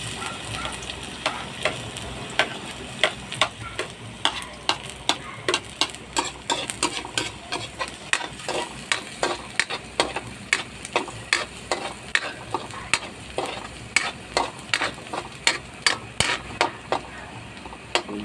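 Garlic browning in a pan gives a steady soft sizzle punctuated by regular sharp clicks of stirring against the pan, close and even throughout, with no talk.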